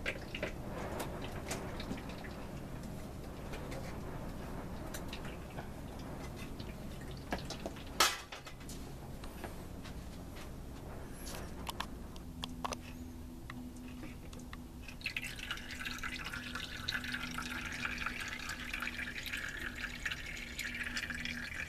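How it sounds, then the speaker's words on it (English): Garlic liquid drips and trickles through an ordinary kitchen strainer into a bowl, faint and close, with scattered small drops and a sharper tap or two over a quiet background. "and pour it in here. Use a strainer, just an ordinary kitchen strainer."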